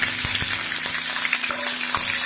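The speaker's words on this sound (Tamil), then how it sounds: "இப்போ எடுத்து வச்ச பச்சை மிளகாய் சேர்த்துக்கலாம்." Green chillies and whole spices (fennel, cinnamon, cloves) frying in hot oil for a Tamil prawn thokku, a steady close sizzle and crackle with a few sharp pops, no talking.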